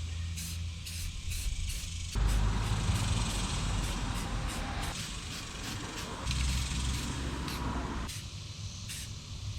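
Red Devil flat black spray paint hissing from an aerosol can onto a custom minitruck rear bumper on a 1977 Datsun 620, in several steady bursts of varying length with brief gaps between them.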